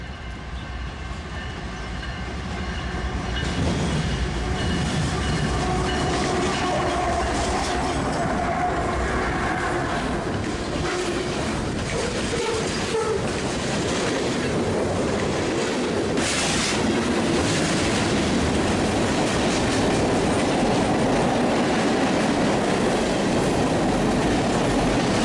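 A long BNSF manifest freight train led by a GE Evolution locomotive rumbles past at close range near Chicago, wheels clattering steadily on the rails, with occasional squeals, loud and continuous throughout.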